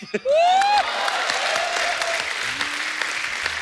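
A studio audience at a television comedy show claps in a sustained burst of applause, loud and close. A brief voice is heard at the start.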